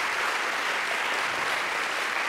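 An audience claps and cheers in a steady, dense burst of applause that fills the whole moment.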